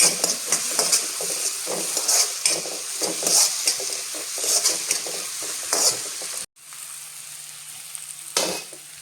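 A spoon stirs chili powder into a sprouted moth-bean curry in a pan, with rhythmic scraping strokes over a constant close sizzle and one brief break.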